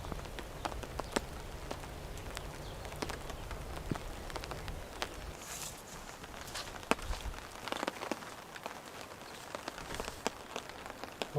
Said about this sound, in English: it's just spitting, sort of drizzling rain, but pretty consistent